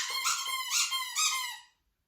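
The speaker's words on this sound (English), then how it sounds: "squeaking the toy" A squeaky dog toy is squeezed three times in quick succession. The shrill, close squeaks ring out alone in a quiet room, then stop abruptly.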